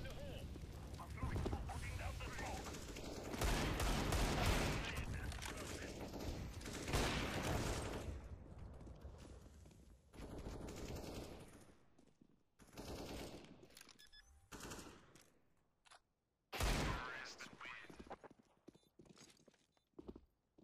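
Gunfire in the video game Counter-Strike: dense stretches of rapid automatic shots and sustained loud action, thinning into sparser bursts with quieter gaps and another sharp volley near the end.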